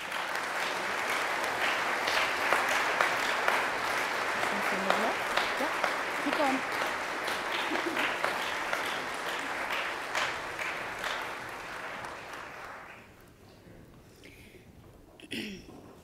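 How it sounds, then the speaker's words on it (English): A large church congregation claps steadily for about twelve seconds, loud and sustained, then the applause thins and fades to scattered claps. "let's give them a big round of applause"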